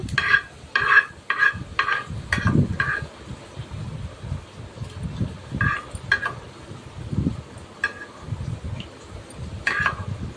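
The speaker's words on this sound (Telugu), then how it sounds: "తీసుకొని నూనెలో ఫ్రై చేసుకోవాలి" Ivy gourd frying lightly in oil in a pan: a soft, steady sizzle runs underneath while sharp metallic clinks and scrapes of stirring sound in bursts near the start and again later.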